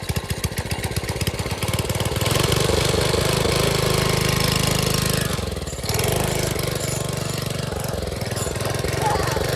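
Vintage Manco Thunderbird minibike's small engine runs steadily and loudly up close, a rapid chugging drone with a brief dip midway before it picks back up.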